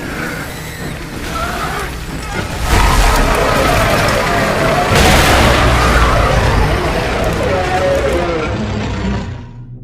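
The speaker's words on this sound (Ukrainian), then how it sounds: "зараз буде вибух" A loud, sustained rumbling blast with crackling debris, swelling midway and lingering as a noisy roar, like a game explosion.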